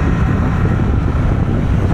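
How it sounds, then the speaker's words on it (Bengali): Strong wind buffets the microphone during a ride through city streets, producing a loud, continuous low rumble that roars steadily without letup and with no voices. "বাতাসের গতি অনেক"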